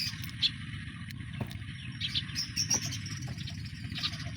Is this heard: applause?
no